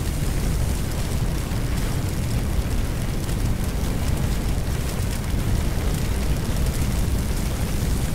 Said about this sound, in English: Now this whole side's on fire again.